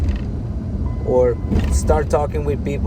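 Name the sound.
car making odd mechanical noise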